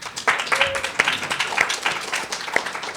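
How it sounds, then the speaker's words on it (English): An audience at an alumni reunion award plenary gives a brief round of applause, scattered claps of moderate loudness with some voices underneath. "Let's have a little round of applause."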